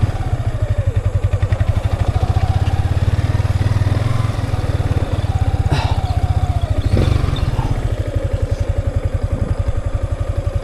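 A motorcycle engine runs steadily nearby on a trail, a loud rapid putter with constant rhythm and slight clatter, alone without talk.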